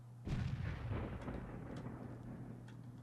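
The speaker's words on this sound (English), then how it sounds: "That's 2 shells hit onto Strecker." World of Tanks artillery fire lands as a single heavy booming blast near the start, its deep rumble rolling and fading out over the next few seconds.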